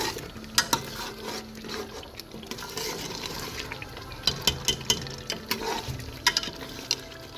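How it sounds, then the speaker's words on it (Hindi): Yogurt and masala for mutton paya fry in a pan while a spoon stirs them, giving a soft steady sizzle broken by scattered scraping clicks of the spoon against the pan. "दही जो हमारा है इसका पानी अच्छे से खुश्क हो जाए और मसाले में अच्छे से ये इसकी भुनाई हो जाए"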